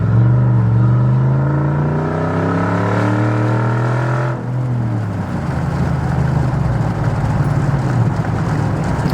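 A first-generation Ford Raptor with a straight-piped exhaust drives along, its engine rumble rising through a gear before a shift near the middle drops it into a rougher, crackling drone, loud and close with no speech.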